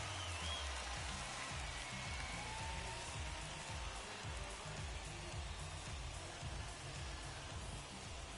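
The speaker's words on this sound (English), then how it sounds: "Yeah, the rain starting to intensify here. It's coming down a little heavier now." Steady rain falls throughout a baseball game in MLB The Show 21, a dense, even hiss of drops on surfaces that holds at a constant level with no talk over it.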